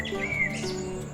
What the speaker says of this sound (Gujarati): અને આ પક્ષીઓના કલરવ, મોરના ટહુકા,